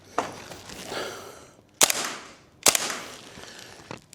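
A WellPro AK12 gas blowback airsoft rifle fires about four separate, sharp cracking shots at an uneven pace, each with a short echo tail, with no talk over them.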